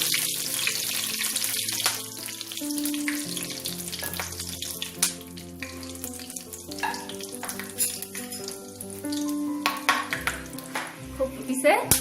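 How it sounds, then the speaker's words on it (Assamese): Whole spices and a bay leaf frying in hot oil sizzle steadily, with clinks of a utensil stirring the pan and brief kitchen clatter under faint background sound. "তাৰ পিছত এইখিনি অকমান ভাজি লওঁ"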